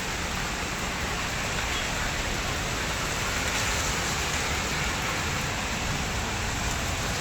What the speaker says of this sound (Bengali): আমার এরিয়ায় তো খুব বৃষ্টি হচ্ছে।